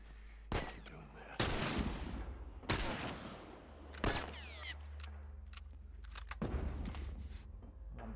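Gunfire in The Last of Us as Ellie shoots, several sharp loud shots spaced a second or so apart, each ringing out with a decaying tail, with quiet movement sounds in the gaps.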